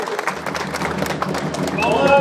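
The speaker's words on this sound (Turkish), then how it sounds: "Bir alkış alalım arkadaşlar" Crowd applauding at the Kuzu Kırkma lamb-shearing festival in Beytüşşebap, a loud dense patter of clapping hands mixed with crowd murmur and voices, with a bright whistle-like tone rising near the end.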